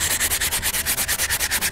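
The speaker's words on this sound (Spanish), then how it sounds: "Vamos a darle con una lija de arenisca" A cast copper axe being rubbed with a sandstone block, about fourteen quick, even scraping strokes in a steady back-and-forth rhythm, close and alone.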